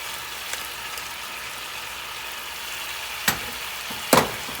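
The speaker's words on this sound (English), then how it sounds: "All right, it's frying" Steady soft sizzle of ramen noodles and shiitake mushrooms frying in a pan, with a couple of sharp scraping clatters near the end.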